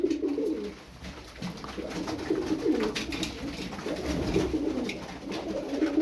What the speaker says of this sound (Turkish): Bakın bir çift bakıcı 7 tane oyun kuşu.